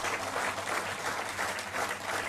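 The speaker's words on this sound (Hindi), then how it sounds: "जोर से एक बार इनके लिए भी ताली बजाएं।" Applause from the audience at a political rally: a steady, dense wash of clapping from many hands, fairly loud and continuous throughout, with no talking.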